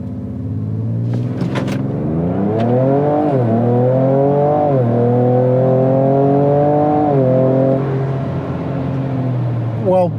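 A Ford Ranger Raptor pickup running a Ford Performance ProCal tune accelerates hard, its engine note climbing loudly through the revs with three distinct drops as it shifts up through the gears, close and continuous.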